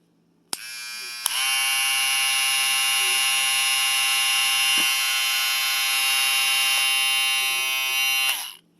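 AliExpress hair trimmer switched on and running, a steady loud buzzing drone close up that starts with a click, holds evenly for several seconds, then cuts off.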